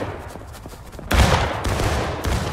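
A sudden crashing rifle volley in the Civil War shooter War of Rights, a loud burst of overlapping musket shots after a quieter stretch of distant firing, followed by continued scattered gunfire, no talk.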